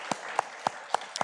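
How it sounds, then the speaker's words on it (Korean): A church congregation claps together in celebration of an ordination, a few distinct sharp claps at a steady pace under a faint room background, with no talking. "우리 축하한다라고 우리 박수로 한번 같이 축하의 마음을 전달하겠습니다"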